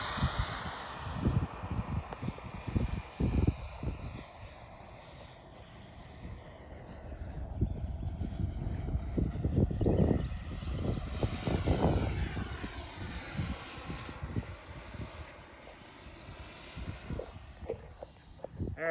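Electric-converted 100-inch CY Models Cessna Bird Dog RC plane making a slow-ish low pass, its steady motor and propeller drone rising and falling as it sweeps by, with wind buffeting throughout.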